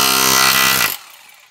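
SDS nail-driver attachment on a hammer drill driving a 150 mm nail, a loud harsh buzzing hammer that runs steadily for under a second, then cuts off abruptly into near silence.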